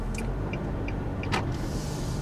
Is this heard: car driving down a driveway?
yes